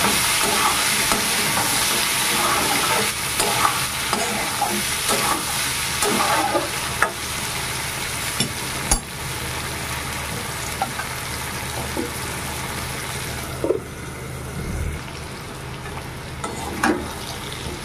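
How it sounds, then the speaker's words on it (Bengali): Jackfruit seeds and pointed gourd fry over a low flame in a pan, giving a steady, close sizzle throughout with scattered clacks of stirring and no talking. "এবার আমি লো ফ্লেমে ভেজে দেবো।"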